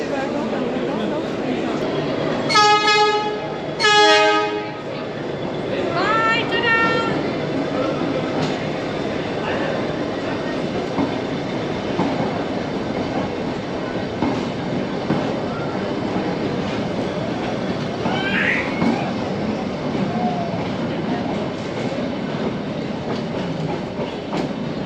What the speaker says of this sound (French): Ah, c'est le vieux train. C'est des wagons passagers.